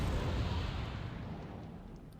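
Rumbling artillery bomb explosions in Wargame Red Dragon, a deep blast decaying over two seconds into a fading low roar, fairly distant and heavy, with no talk over it.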